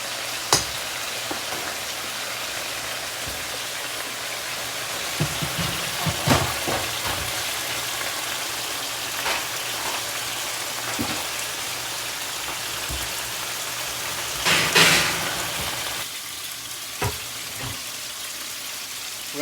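Penne noodles cooking in a pot of water, a soft steady bubbling and simmering texture with occasional louder clinks and pops, heard close and fairly quiet with no talk.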